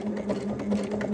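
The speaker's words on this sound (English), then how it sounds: "stitch all around with a 3-step zigzag" A sewing machine running a 3-step zigzag stitch along stretchy fabric for high-waisted panties: a steady, close mechanical whirr with a quick rhythmic pulse of needle strokes.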